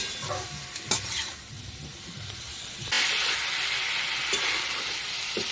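Papaya and fish curry is stirred in a pan with a little water: steady scraping and stirring over a soft sizzle and bubbling, with a few sharper utensil knocks and a louder hiss partway through, close and without talk.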